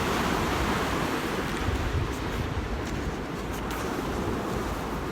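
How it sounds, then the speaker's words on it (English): Strong wind blows steadily across an open beach at sunrise, a dense, continuous roar with gusty buffeting against the microphone and surf mixed in, no voices. "the wind really does cut, Donna."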